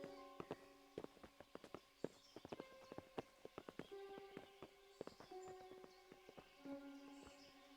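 Horses clip-clop in the medieval video game Kingdom Come: Deliverance, a run of sharp, distinct hoof strikes with an uneven gait, fairly close, alongside faint tonal jingling and light background ambience, with no talk.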